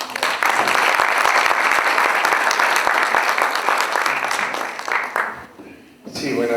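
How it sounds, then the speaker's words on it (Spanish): Loud, dense audience applause after an introduction at an evening event, steady for about five seconds before fading out, with a voice starting to speak right after. "Un fuerte aplauso."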